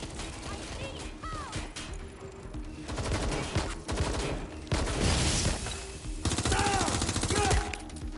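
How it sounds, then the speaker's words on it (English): Sustained bursts of gunfire in the video game Watch Dogs: Legion, rapid automatic volleys and scattered shots piling up over several seconds, loud and close, with game voices talking over the shooting. "Shots fired!"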